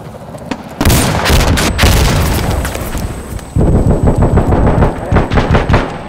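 Gunfire in the shooter game Insurgency: Sandstorm: loud, close bursts of rapid shots with booming reports, a brief lull, then another sustained volley.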